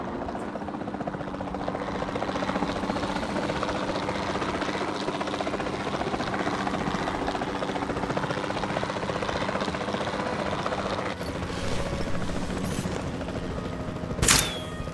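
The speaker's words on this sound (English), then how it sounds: "We'll start by tranquilizing one of the dinosaurs from the helicopter" Steady helicopter rotor drone fills the scene in the video game Jurassic World Evolution, with a couple of sharp tranquilizer dart pops near the end.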